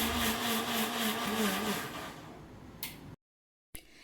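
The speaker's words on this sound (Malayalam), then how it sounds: "ഉണക്കലരി എടുത്ത് കുതിർത്തതിന് ശേഷം നമുക്കത് മിക്സിയുടെ ജാറിലിട്ട് അരച്ചെടുക്കാം" A mixer grinder whirs as it grinds soaked raw rice in its jar, a loud steady motor drone with a pitch that wavers and drops. It stops abruptly, then after a short pause a brief burst starts again.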